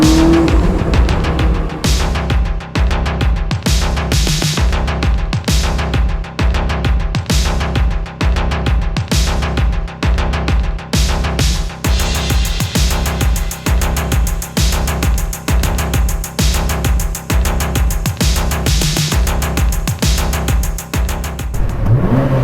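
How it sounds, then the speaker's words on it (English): A twin-turbo V8 Lotus road car drives with a steady, throaty engine drone and rhythmic pulsing revs heard from inside the cabin, loud and continuous throughout. "Oh, the car sounds amazing."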